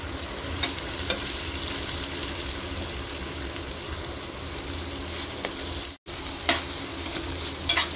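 Cooked mutton being stirred and fried in a pan, a constant close sizzle with spatula scrapes and a brief break in the middle, without speech.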